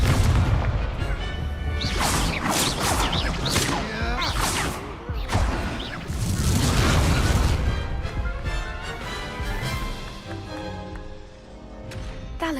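Confringo blasting spells exploding in Hogwarts Legacy, a rapid string of loud booms and crashes with whooshing bursts that fade toward the end.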